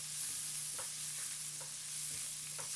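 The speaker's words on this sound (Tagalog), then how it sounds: "Magtunaw tayo ng margarine. Then, igisa na natin yung sibuyas." Onion sautés in melted margarine for a salted egg eggplant dish, making a soft, even sizzle broken by quiet scrapes of stirring.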